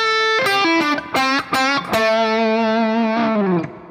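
Distorted electric guitar plays a short bluesy lead lick, with quick picked notes, a bend, and a final long note shaken with vibrato that sustains before cutting off, loud and close.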